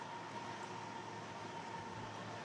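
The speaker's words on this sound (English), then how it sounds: "Here comes a train." A train passes nearby as a steady, continuous rumble and rolling hiss that holds at a constant level throughout, with no voices over it.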